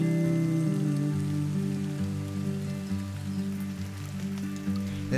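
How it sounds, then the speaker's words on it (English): Steady rain falls continuously in an animated children's show, a constant wash of drops under sustained, held musical tones. "Enjoy the rain. It rains for you."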